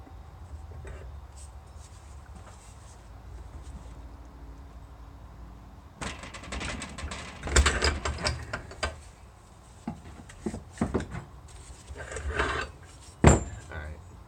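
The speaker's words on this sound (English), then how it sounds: "Alright, broke that nut loose." A wrench works a nut loose on a 40 series torque converter from a Predator 420 go-kart held in a vise. A quiet start gives way to bursts of metallic clanks and ratchet clicks, with sharp hits near the end.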